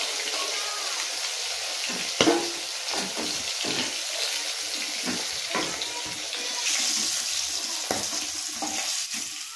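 Tangra fish frying in hot oil in a home kitchen, a continuous loud hiss and sizzle with scattered pops and utensil clinks close by.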